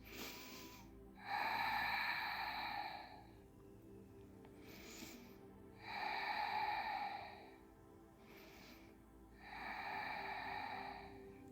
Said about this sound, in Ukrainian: Робимо глибокий вдих, округлюємо трохи спину